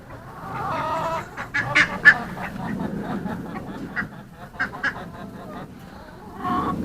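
Ducks in a farm pen during a morning animal check, a run of loud, close, harsh quacks in irregular bursts, some overlapping, with a person talking faintly now and then.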